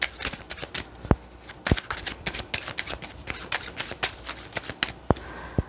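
Tarot cards are shuffled by hand in quick bursts of crisp riffling and slapping, close and clear, with short pauses between passes.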